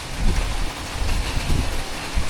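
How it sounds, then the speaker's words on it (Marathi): Heavy monsoon rain pours steadily on a hill fort trek, a dense, even hiss with low rumbling gusts and no speech. "पाऊस वाढतच चाललाय"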